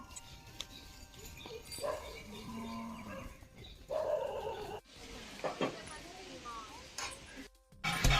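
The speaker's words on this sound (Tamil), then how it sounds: "இது வந்து நல்ல நாட்டு மாடு பார்க்கவே காளை மாடு மாதிரி இருக்கும்" A native cow in a village Pongal celebration lows with deep, drawn-out moos that rise clearly over a busy outdoor backdrop of voices, clinks and a distant barking dog.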